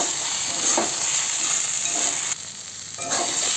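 Fried prawns cook in chilli and cumin paste for a Bengali prawn and water lily stem dish, giving a loud, close, continuous sizzle with faint stirring that briefly softens before picking up again.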